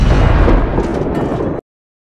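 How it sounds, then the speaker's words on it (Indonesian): A ship's gun fires in a film, a loud booming blast followed by a rumbling roar that cuts off abruptly into silence. "Tembakan pertama meleset"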